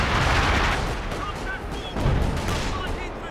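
240mm artillery in Company of Heroes 2 fills the scene with dense, continuous rumbling blasts and battle noise, loud and close, with shell whistles faintly audible over the roar.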